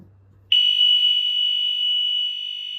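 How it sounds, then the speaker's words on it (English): After a brief quiet moment, a tabletop water polo scoreboard's loud, sustained electronic end-of-game buzzer blares on and holds a steady harsh tone to the end. "What's going to happen is the buzzer will go."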